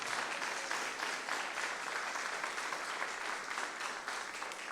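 A church congregation claps together in steady, sustained applause that fills the room evenly from start to finish, with no speech over it.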